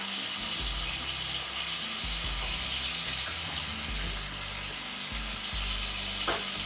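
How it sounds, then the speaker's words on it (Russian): Hot water drains from a pot of boiled potatoes into a sink, a steady close rushing and splashing stream that continues throughout without speech. "И мне нужно обязательно слить воду"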